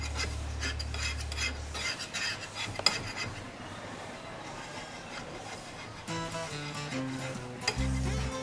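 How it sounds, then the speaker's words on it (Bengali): An egg fries on a hot solar panel in the sun, a steady sizzling hiss with scraping and clinking of utensils, and some tonal rumble at the start and end. "দেখেন ডিম ভাজা হচ্ছে দেখছেন"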